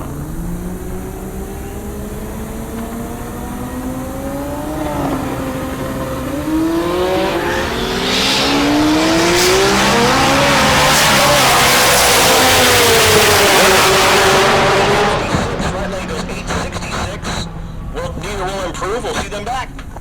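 Drag race cars in the ultimate radial class at Heartland Park Topeka launch and roar down the strip, their engine notes climbing to a loud, broad peak before fading, with a commentator talking over them.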